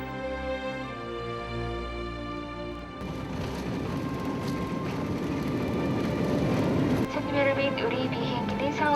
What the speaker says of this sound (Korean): 우리 비행기는 서울 김포국제공항에 도착했습니다